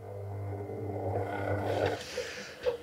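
A kitchen mixer kneading pizza dough hums and churns steadily, a low motor drone with a soft thumping texture, close and continuous.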